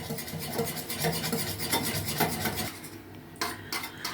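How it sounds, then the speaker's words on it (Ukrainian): An egg mixture with salt, sugar and soda being stirred briskly in a bowl, the spoon rasping and clinking against the sides in a steady rhythm, close and fairly loud, then slowing to a few scrapes near the end. "і це все старанно змішаємо з яйцем, щоб сіль, цукор розчинився"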